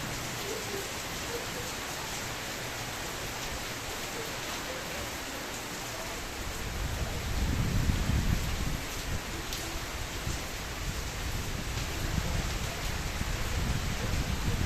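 Steady rain hisses over everything, and partway through a gusting wind picks up into a deeper, rushing roar that persists.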